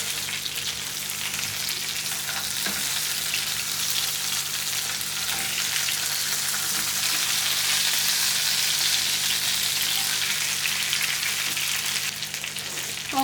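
Chicken frying in hot oil, a continuous loud crackling sizzle that holds steady from start to finish with no voices.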